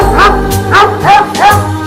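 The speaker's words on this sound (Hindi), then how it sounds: "ये डॉग तुम्हें देख के भौंक क्यों रहा है?" A dog barks repeatedly at someone in a scripted school comedy scene, with three or four close, loud yaps and whimpering bow-wows in an uneven rhythm and no talking over them.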